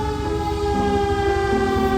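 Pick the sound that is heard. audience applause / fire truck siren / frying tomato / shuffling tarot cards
fire truck siren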